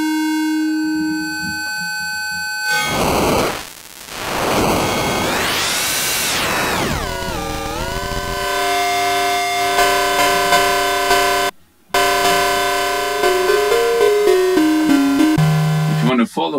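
Arturia MiniFreak synthesizer noise engine set to a sample-rate style noise, a loud sustained digital hiss with sweeping, gritty tones that shift and step in pitch, briefly cutting out near the end.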